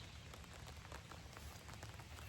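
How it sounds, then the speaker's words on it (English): Steady rain falls and patters on a surface, a continuous even hiss with dense small drops throughout and no voices. "just stand there and just listen to the birds, to the rain"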